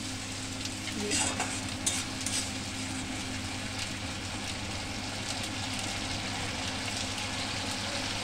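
Eggplant and small chela fish fry in hot oil in a pan, giving a steady, close sizzle with a few louder stirring scrapes early on. No one speaks.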